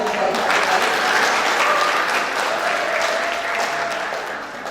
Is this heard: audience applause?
yes